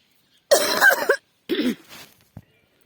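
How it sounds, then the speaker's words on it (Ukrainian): A person coughs twice, one harsh and one shorter, followed by a small throat-clearing sound in an otherwise quiet room; a lingering cough. "І я також ніяк не можу вичухатися від кашлю."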